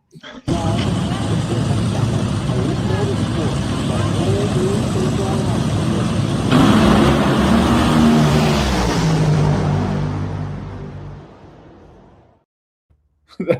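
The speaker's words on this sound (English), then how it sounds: "this is the first time that her daughter saw a fuel car run" A nitro-fuel drag racing car runs with a loud, sustained roaring blast for about eleven seconds, then quickly fades away to silence.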